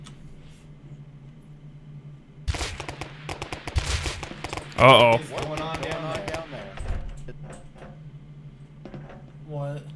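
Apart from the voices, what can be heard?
heavy gunfire in the video game Rust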